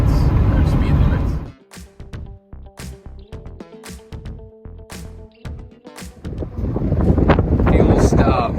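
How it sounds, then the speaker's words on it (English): Strong gusting wind buffets the microphone at a roadside fuel stop in North Dakota, with loud roaring bursts at the start and end and a brief calmer stretch where a voice talks. "Listen to that wind."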